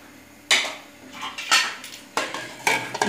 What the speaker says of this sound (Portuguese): Vai dar uma mexidinha, ó, como que fica bonito.